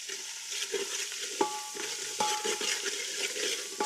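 Ginger-garlic paste and onions with turmeric being stirred in a hot pan, a steady sizzle of frying broken by scraping strokes of a spoon every second or so, close and fairly quiet, with no talking.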